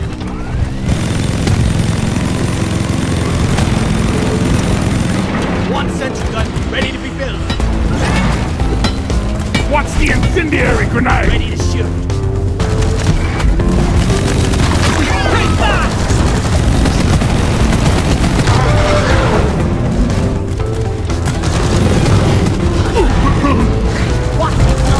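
Deep Rock Galactic gameplay: a dense, continuous wall of gunfire bursts and booming explosions, with clanking mechanisms layered under it, loud throughout the whole stretch.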